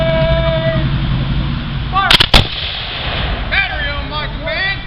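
Two sharp, loud booms in quick succession from a Civil War reenactment artillery battery firing in a Confederate last-stand anniversary event near Little Rock, with voices talking before and after.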